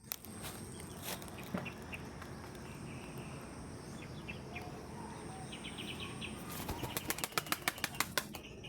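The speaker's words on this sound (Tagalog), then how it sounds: "Ang apat natin kalapati nandun sa bubong, oh." Pigeons flap their wings near a rooftop on an overcast day: a run of sharp, rapid wing beats comes in toward the end over steady outdoor background noise, with no talking.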